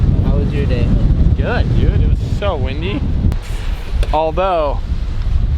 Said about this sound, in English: It was so windy.